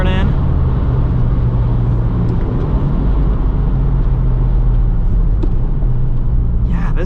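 A 2022 Subaru WRX with a six-speed manual driven on a wet Road America track, a loud, steady engine drone and road rumble heard from inside the cabin, continuous throughout.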